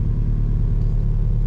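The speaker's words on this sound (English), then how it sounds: "I'll show you guys what the car sounds like and feels like." A low, steady engine rumble hums from inside a moving 1990s Honda Accord with an H22 engine, smooth and constant throughout.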